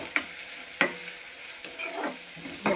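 Chopped onion fries in hot oil with cumin seeds in a pan on a gas stove, a soft steady sizzle broken by several sharp scrapes and clacks of a spoon stirring.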